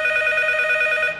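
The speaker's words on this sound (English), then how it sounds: "causing the phone to start ringing." A telephone rings inside the horror game P.T., a steady electronic trill with bright, evenly pulsing tones, loud and close, with no one talking over it.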